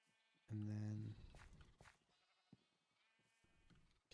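A sheep bleating in a wool-farm video game, one loud, close bleat followed by quieter shuffling sounds and soft talk.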